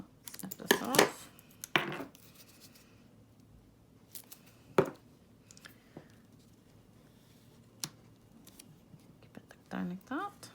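Scissors snip through cardstock for a Stampin' Up! card in several sharp, close cuts spread across the clip, with quiet pauses between them and a soft voice in places.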